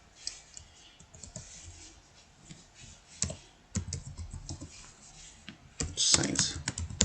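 Typing on a computer keyboard while formatting in MS Word, with soft key clicks scattered through the clip and a denser burst near the end, heard under someone speaking.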